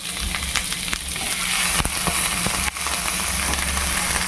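Hilsa fish parcels fry in hot oil in a pan with a loud, dense, continuous sizzle heard up close. A few scrapes and taps of a spatula sound over the frying, and no one speaks.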